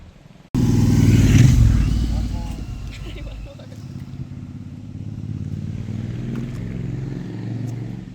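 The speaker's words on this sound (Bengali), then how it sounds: "আমরা এখন মোটর বাইক নিয়ে ঘুরতেছি" A motorbike touring around Puerto Galera in the Philippines, its engine a loud, low rumble that swells early on and then settles into a steady drone with road and wind noise.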